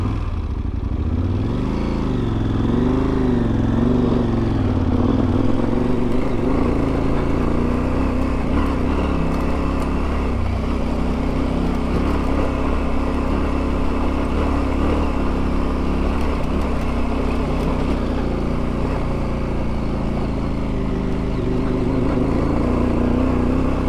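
A dual-sport motorcycle climbing a steep shelf road of loose rock and shale in the Colorado mountains, its engine droning loud and close with rising and falling revs, gravel clattering underneath throughout.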